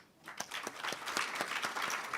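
An audience claps for panelists at a UNFCCC forum session, a brief, moderately distant patter of many hands that swells from a quiet start into steady applause.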